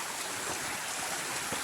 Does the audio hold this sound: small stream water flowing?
yes